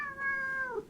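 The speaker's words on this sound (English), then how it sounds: "Whenever she meows, she always sounds upset, though." A cat gives one short, clear meow close up that bends downward at the end, with little else around it.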